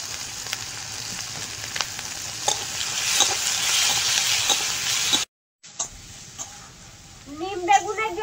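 Cumin, bay leaf, garlic and slit green chillies frying in fish-frying oil, a loud continuous sizzle with stirring clinks; it cuts out briefly, then resumes more quietly while someone speaks over it.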